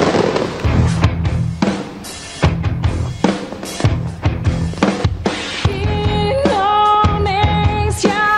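Fireworks over the Monas national monument in Jakarta on an Independence Day night, with a rapid series of sharp bangs and crackling bursts, some whistling rockets, and dense overlapping explosions that continue steadily to the end.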